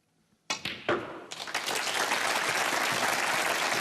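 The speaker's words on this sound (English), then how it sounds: "The crowd appreciating the skills of Judd Trump here." Applause breaks out in a snooker arena after a century break, starting with a few sharp claps and swelling within a second into sustained, dense clapping from the crowd.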